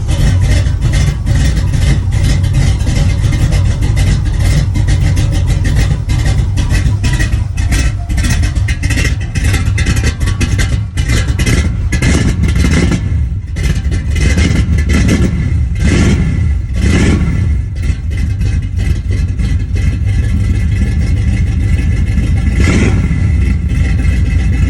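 Custom 1975 Chevy Nova with a loud engine, started cold and revved hard. It runs loud and close throughout with a rough idle and repeated throttle blips, and no voices are heard.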